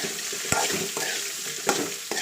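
Onions for a spicy hotel-style kara chutney sauté in a pan, giving a continuous close sizzle broken by a few sharp spatula scrapes and taps.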